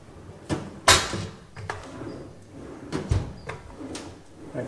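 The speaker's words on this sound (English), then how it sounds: "the drawers, they open up really nice" Metal drawers of a Vulcan heavy-duty welding cart open and close in a run of clunks and sliding rattles, one sharp bang near the start and several softer knocks after it.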